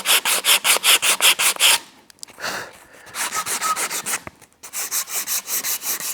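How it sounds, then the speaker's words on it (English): A wooden axe handle's neck is sanded by hand: steady, rhythmic back-and-forth rasping strokes, close and loud, in three runs separated by a short softer scrubbing pause. "So I'm gonna go ahead and sand down the neck right here just a smidge"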